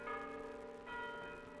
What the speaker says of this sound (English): where the air is alive with the bronze bells of 2 churches